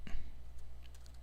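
A few light, quick keystrokes on a computer keyboard while a web address is typed, faint clicks spaced apart over a steady low hum.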